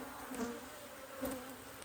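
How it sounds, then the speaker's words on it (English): A swarm of honey bees buzzes close by in a dense, steady drone that swells slightly at moments, with no voices. "if there's a lot of bees flying around you"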